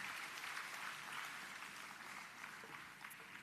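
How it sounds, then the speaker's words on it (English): A round of applause at a graduation ceremony, a dense, even wash of clapping from a large seated crowd, steady and fairly distant, fading slightly toward the end. "Everybody, put your hands together and give them a round of applause as well."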